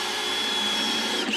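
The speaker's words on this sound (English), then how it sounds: "we're trying to like drill the faceplates in from the back." A power drill whines steadily for a moment, driving screws into shaker-style cabinet faceplates from the back during a camper van kitchen build, close and without talk.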